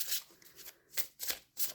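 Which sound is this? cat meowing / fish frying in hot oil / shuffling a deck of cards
shuffling a deck of cards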